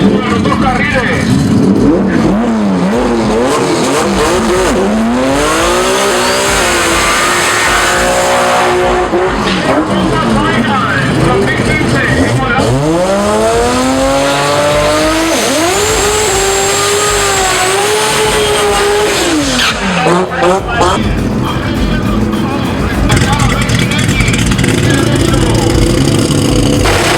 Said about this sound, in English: Both cars come out hard.